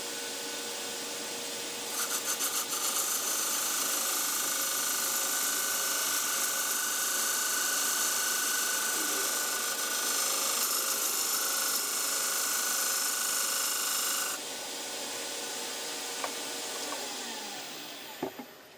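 Wooden box lid being cut on a wood lathe while turning a three-sided box. A steady, loud abrasive hiss with a high whine runs unbroken for about twelve seconds, then drops away to quieter shop noise.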